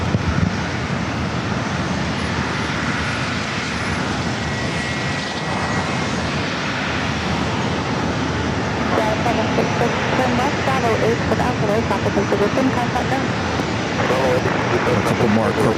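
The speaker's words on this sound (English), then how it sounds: "A couple more corporate jets heading over here to 27" Corporate jets roar over San Diego airport on approach to runway 27, a loud, broad engine rumble with rushing wind noise that swells toward the end, while a voice talks over it.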